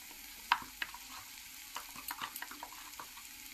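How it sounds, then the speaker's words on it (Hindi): Fried onions sizzling gently in a pan as spices such as turmeric, cumin and coriander powder are added, with soft scattered stirring clicks and scrapes close by. "मेरी प्याज जो है अच्छे से फ्राई हो चुकी है और अब मैं इसमें मसाला डाल रही हूँ।"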